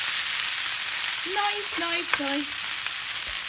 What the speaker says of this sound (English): then we're going to add some spring onion, and we're just going to saute that off a bit until it wilts